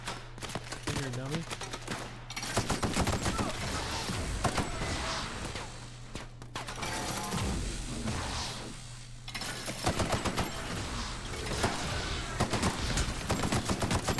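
Shotgun blasts in The Outer Worlds, a series of loud, sharp reports spread across the span amid continuous in-game combat noise, with a steady hum running underneath.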